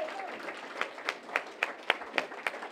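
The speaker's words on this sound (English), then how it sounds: "Let's give her a round of applause." Scattered applause from a small audience at a Democratic city committee breakfast in Brockton, with sharp individual claps rising out of a soft murmur, moderately near and fairly quiet.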